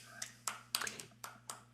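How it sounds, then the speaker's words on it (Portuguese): Several sharp hand claps in a loose, uneven rhythm, close and fairly quiet, over a steady low electrical hum. "Palmas."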